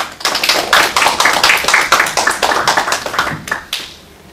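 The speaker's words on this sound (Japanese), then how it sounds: "木本先生に感謝の拍手で終わりたいと思います" A university lecture audience gives a round of applause to thank the lecturer. The clapping is dense and close, runs for about four seconds, then thins out and stops.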